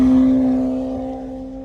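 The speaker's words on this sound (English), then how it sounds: "Oh no, that's the Aventador." Lamborghini Aventador sports car cruising past with a steady, strong engine drone that holds a constant pitch, then slowly fades as it moves away.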